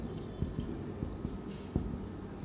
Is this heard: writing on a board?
yes